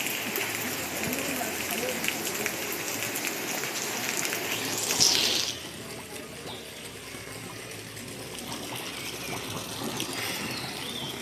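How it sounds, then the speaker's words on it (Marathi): Rain falls steadily outdoors near the Shukachari temple in Khanapur, Sangli, a constant hiss of drops that softens midway while people talk over it. "पाऊस पडायला आलाय"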